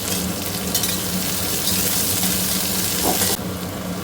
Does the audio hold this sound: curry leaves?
yes